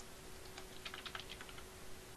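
Quiet typing on a computer keyboard: a soft burst of keystrokes clicks irregularly for over a second over a faint, steady background hum.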